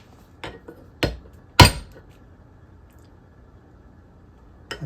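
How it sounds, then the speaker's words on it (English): A switchbox being hammered during a teardown: a few sharp, separated knocks at close range, the third the loudest, with quiet pauses between them. "I don't think I can hammer that through."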